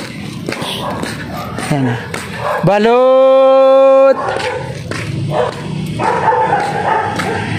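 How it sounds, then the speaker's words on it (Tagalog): Dogs bark at night in a wealthy neighbourhood, a few close, loud barks and one long sustained howl-like yelp, heard along with someone talking over street noise. "Mga aso. Pakakawalan paggabi."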